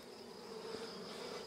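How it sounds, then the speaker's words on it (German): Honey bees hum in a steady, dense drone at an open hive during June beekeeping, continuous and close with no speech. "dann kann ich einfach das Bienenvolk hier hantieren"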